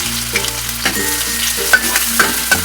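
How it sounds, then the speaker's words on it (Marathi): Garlic, onion and bay leaf sautéing in a pan for a Konkan chicken curry: a steady close sizzle with intermittent stirring scrapes and clinks, no voices. "चांगलं परतून घेऊया, कांदा।"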